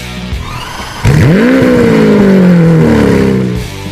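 A powerful 6.5-liter V12 sports car engine bursts into a loud, rising rev, holds a high snarling tone for a couple of seconds, then drops away.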